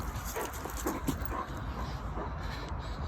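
A dog makes soft whimpering and yipping noises against a steady, noisy outdoor background, with no clear barks standing out.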